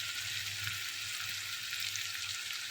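Steady, even sizzling of pumpkin and vegetables frying in a pan, a continuous hiss that stays constant throughout with no voices.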